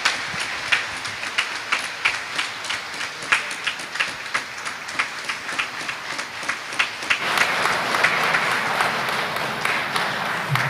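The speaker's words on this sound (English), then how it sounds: "I invite a round of applause for these Victor Dixon High School achievers." Scattered clapping from a graduation audience honouring Victor Dixon High School achievers, at first a sparse rhythmic patter of individual claps, then swelling around the seven-second mark into fuller, denser applause.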